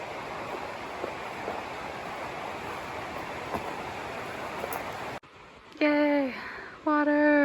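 A stream flows along a Washington mountain hiking trail with a steady, close rushing hiss that runs unbroken for about five seconds, then cuts off abruptly before a voice is heard.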